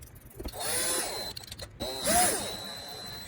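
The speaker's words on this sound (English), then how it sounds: "I'm gonna put the screws back in." A power drill driving metal screws back into a dining room furniture piece during a makeover, two whirring bursts with rising and falling pitch, the second louder, separated by short mechanical clicks.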